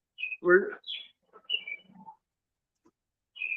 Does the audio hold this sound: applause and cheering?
no